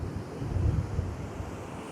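Strong, cold wind buffets the microphone on a beach in Baler, with low rumbling gusts over a steady rush of surf, close and continuous with no talking.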